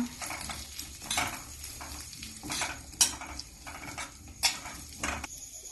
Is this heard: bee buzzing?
no